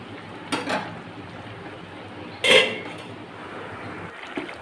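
A pot lid is lifted while lau shak cooks, giving a couple of brief metallic clinks and a sharper clatter, close and distinct over a quiet kitchen background.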